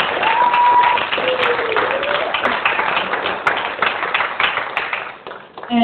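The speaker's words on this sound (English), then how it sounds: "I want to give her a hand of applause." An audience applauds at a campaign event, steady clapping filling the room at moderate loudness, with some talk over it.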